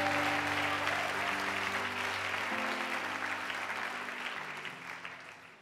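A church congregation applauding, a steady wash of clapping over a sustained organ-like musical tone, gradually fading toward the end.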